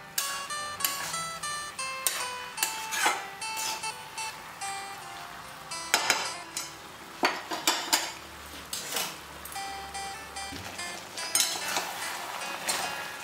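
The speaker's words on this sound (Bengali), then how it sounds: "মশলার সাথে শাকটাকে ভালো করে নেড়ে নিচ্ছি, ভালোভাবে মিশে যায় সবার সঙ্গে।" A utensil stirs Malabar spinach with spices and katla fish head in a metal pan, producing repeated close clanks, scrapes and clinks against the pan in an uneven rhythm over a faint sizzle.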